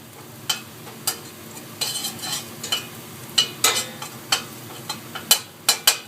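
Garlic frying in a pan and being tossed around, a low background sizzle broken by a string of sharp metallic clinks and scrapes from stirring at an uneven rhythm.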